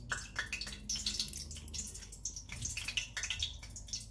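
Boiled bitter gourd squeezed by hand to press out its water, giving repeated wet squishes and drips that fall into a bowl at a quiet level, alone with no talking.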